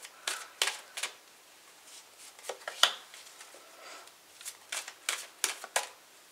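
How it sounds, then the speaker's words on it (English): Tarot cards are shuffled in quick, soft riffles and rubs, several short papery bursts with brief pauses between them, close and fairly quiet. "It takes me a second to shuffle."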